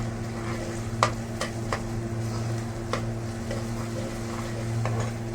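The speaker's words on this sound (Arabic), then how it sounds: "حمرها لحد ما توصل للون الذهبي" Chopped onion frying in a pan until golden, a steady low sizzle with a few faint clicks and scrapes from stirring, close and moderately quiet with no talking.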